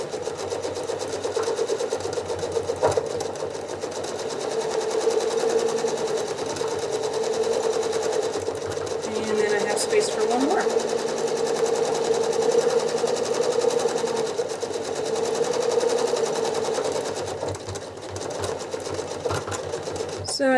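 Free-motion quilting on a sewing machine, stitching small circles: a continuous close motor hum with rapid needle chatter, running steadily throughout with a person speaking over it.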